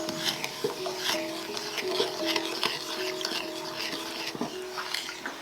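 Steady scraping and swishing of a utensil stirring a sweet sauce with sugar inside a sauté pan, continuous with faint clinks, close by and fairly quiet.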